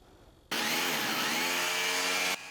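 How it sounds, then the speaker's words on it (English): A loud, steady power drill whirs continuously for about two seconds while drilling holes for a toilet handrail, starting abruptly and stopping cleanly, with no voices. "After drilling holes in the toilet,"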